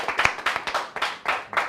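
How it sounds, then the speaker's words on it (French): Rhythmic clapping in a TV studio, roughly eight or nine distinct claps in a steady beat, close by and fairly loud, with no talking over it. "Est-ce qu'on peut l'applaudir?"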